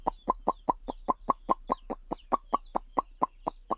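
Chickens cluck in a steady run of short, evenly spaced calls, about four per second, close and fairly loud as the birds are called in to gather.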